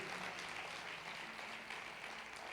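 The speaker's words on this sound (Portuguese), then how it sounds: "Será que você pode dar uma salva de palmas?" A church conference congregation applauds in a soft, steady wash of clapping that sounds distant and faint, with no talking over it.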